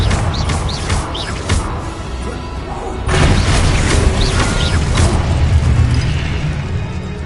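Confringo blasting-spell impacts from the Hogwarts Legacy video game, loud rumbling bursts with mechanical clanks and creaks, a fresh heavy blast landing midway and sustaining a dense, booming wash.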